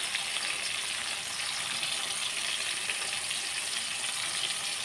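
Onion, tomatoes and green chillies frying with salt in a pan, a steady close sizzle with fine crackling throughout and no talking.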